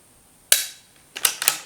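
A .22 rifle shot from a Ruger RPR at an outdoor long-range match with a steel gong at 350 yards: one sharp, loud crack, then two quieter bursts a moment later.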